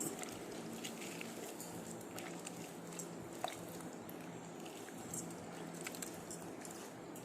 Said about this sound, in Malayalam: ചെമ്പരത്തി പൂ ഇങ്ങനെ തിരുമ്മിയാൽ മതി നല്ല പോലെ